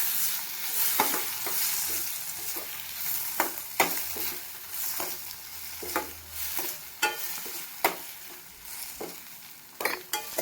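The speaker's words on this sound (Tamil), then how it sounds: "நல்லா வெங்காயம் வதங்கி வரட்டும்." Onions sautéing in a pan for peanut sundal, a continuous soft sizzle broken by irregular scraping stirs of a spatula, close and moderately quiet, with no one speaking.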